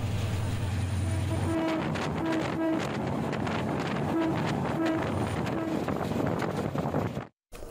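The Probal Express passenger train runs on the Cox's Bazar–Chattogram line with a steady rumble and wind buffeting, while short tonal horn blasts sound several times, before the sound cuts off abruptly near the end.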